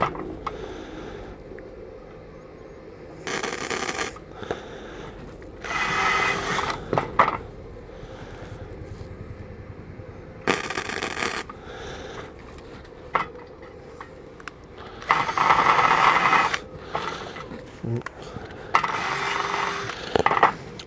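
Flux core welder laying beads on sheet metal, several short crackling, hissing bursts of a few seconds each separated by quieter pauses, fairly close.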